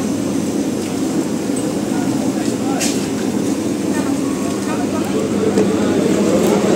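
A train stands at a busy station platform as passengers board, giving a constant low rumble and mechanical hum, while people talk and call out over it.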